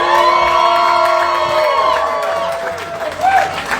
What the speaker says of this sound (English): can we give a round of applause for my parents who are right up front right now?